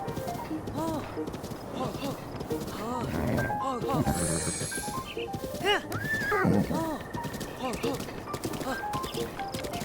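Hooves clip-clop rhythmically as a horse moves along in The Legend of Zelda: Breath of the Wild on Nintendo Switch, with occasional whinnies and snorts over a busy background of game effects.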